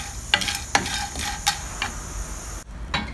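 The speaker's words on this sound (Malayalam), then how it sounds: "അത് കണ്ടിന്യൂസ് ആയിട്ട് ഇളക്കിക്കൊണ്ടിരിക്കണം കരിഞ്ഞു പോകാതിരിക്കാനായിട്ട്" Dried prawns being stirred in a pan over a medium to low flame for a chutney: a few sharp spoon scrapes and clinks rise over a steady soft frying hiss, with no talking.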